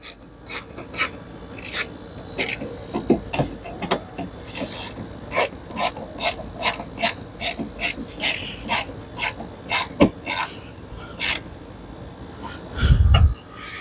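Ratchet tightening a headlamp bolt on a 2016 Dodge Journey, a long run of close, rhythmic clicking and rasping strokes with brief pauses, ending in a heavier thump, no talking.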